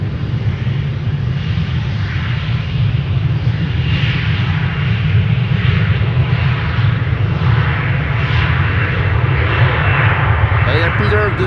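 Loud, sustained engine roar from an aircraft taxiing toward the runway threshold at Amsterdam Schiphol, heard from close beside the runway, steady and droning for the whole stretch.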